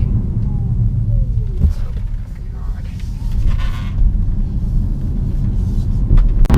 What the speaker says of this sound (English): Now on the highway here, it's a little bit of a different story. It actually drives okay, but the wind noise, the road noise is a bit high.